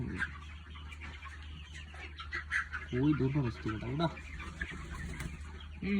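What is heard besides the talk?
chickens clucking on a poultry farm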